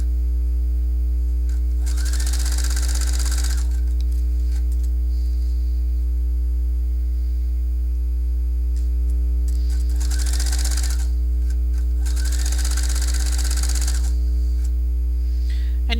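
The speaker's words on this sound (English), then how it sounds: "And I'm going to sew all the way up to the top." Sewing machine stitching a jacket lining onto fashion fabric, three bursts of motor whir near 2–3.5, 10–11 and 12–14 seconds over a steady mains hum, with quiet pauses between runs and no talk.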